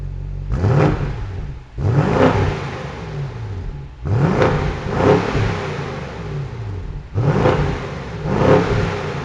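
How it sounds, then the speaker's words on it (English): A 2020 BMW 750i xDrive with M Performance exhaust revs three times from idle, each loud, close blip swelling and falling back, with no voices. "let's go ahead and hear that M Performance exhaust system"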